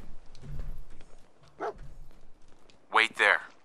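Dog companion in the Fallout 4 video game barking: two sharp, close barks near the end, preceded by quieter yips and game sounds.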